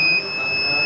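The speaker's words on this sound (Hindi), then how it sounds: "ये देखिए अलार्म आ जाएगा" A temperature monitor's alarm buzzer, triggered by heating a body-temperature sensor, sounds as a steady high electronic tone, loud and close, holding continuously.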